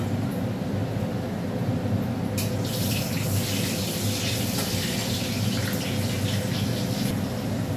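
Water is poured into a pan of fish being cooked, a steady, close running splash that begins with a brighter gush and continues unbroken at an even loudness.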